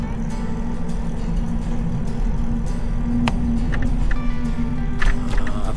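An AIPAS C1 Max Xpress ST 1100W e-bike pulls away smoothly, with a constant close rumble of motor and road noise that swells slightly toward the end.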